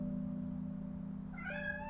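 A single cat meows once, a short rising-falling call near the end, close and fairly clear over a steady low electrical hum in a quiet room.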